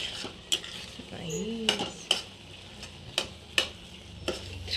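A spoon stirs spicy food in a cooking pan, giving sharp metallic clinks and scrapes at irregular intervals over a soft background sizzle, close and moderately loud.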